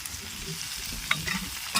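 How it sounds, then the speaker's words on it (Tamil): Curd poured into a pan of sautéed tomato and onion gravy for a prawn curry, giving a soft, steady sizzle with a few faint scrapes and stirring clicks near the end, with no talking. "தக்காளி வெங்காயம் நல்லா வதங்கிடுச்சு அதில் கொஞ்சம் தயிர் ஊற்றுறேன்"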